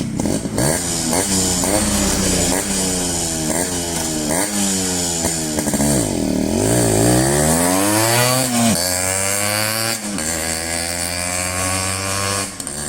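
A Yamaha RX 100 two-stroke motorcycle engine revs repeatedly up close, loud rasping throttle blips rising and falling in pitch, with a long swooping rev near the middle and no talking.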